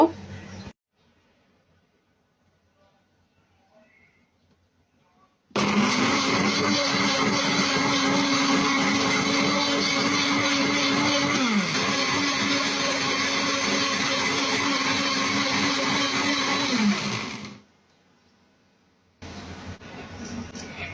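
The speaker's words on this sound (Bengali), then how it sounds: "সব উপকরণ আমি একসাথে ব্লেন্ডারে জারে দিয়ে দিলাম এবার ব্লেন্ড করে নেব" A blender jar whirs loudly as it blends mint, lemon and sugar into juice, starting abruptly after a near-silent pause, running a steady high whine for about twelve seconds, then cutting off before a short burst restarts at the end.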